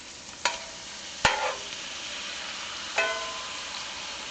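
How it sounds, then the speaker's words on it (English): Burger patty for an onion burger sizzling on a griddle, with three sharp spatula scrapes and taps over a steady hiss as it is flipped; no talking. "This burger's looking good, so I'm going to go ahead and flip it."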